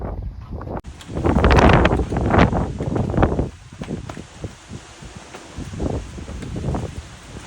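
Wind gusts buffet an outdoor scene during a shed build on a breezy morning, a loud rushing roar that swells and fades over several seconds with some rustling.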